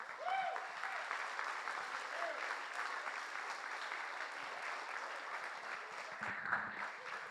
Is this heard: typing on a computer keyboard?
no